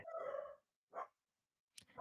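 A dog named Portia barks, two or three short, sharp barks separated by brief pauses, moderately loud and somewhat distant indoors.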